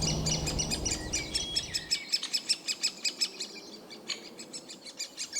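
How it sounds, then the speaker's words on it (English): Birds chirp in a rapid, rhythmic series of high calls, loud and close, over a low rumble that drops away partway through. "I'm really surprised at how noisy the birds are"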